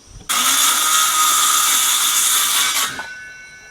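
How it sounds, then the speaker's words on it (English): A power tool cuts through wall trim over metal sheeting in a kitchen renovation, a loud, high, steady whine starting abruptly and running about two and a half seconds before spinning down, close by. "we're going to cut the trim off here to get up to the top plate"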